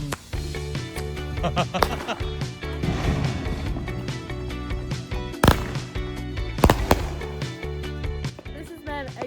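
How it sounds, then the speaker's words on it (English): Neighborhood fireworks show going off nearby, with a dense stream of crackles and bangs and two sharp, loud blasts standing out, heard alongside background voices. "We have fireworks show going on over there."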